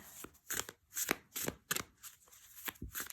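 Tarot cards are shuffled by hand in a quiet room, producing a soft, rapid series of riffling, slapping bursts in an uneven rhythm, close and fairly faint, with no talking.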